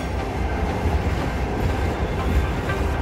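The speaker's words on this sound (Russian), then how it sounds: "А с другой стороны поезд." A train passing at a railway junction in Los Angeles, heard as a loud, steady rumble of rail cars rolling by, with no talk.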